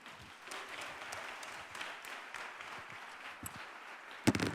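Steady applause from a banquet audience fills the room, a dense patter of many hands that holds for several seconds before a few sharper, closer claps burst out at the end.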